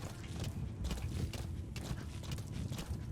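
Horse hooves clip-clop in Metal Gear Solid V: The Phantom Pain, a quiet, uneven run of soft thuds under a low background rumble.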